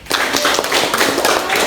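A classroom of students breaks into applause, a dense burst of many hands clapping at once, loud and close, sustained through the short stretch without pause.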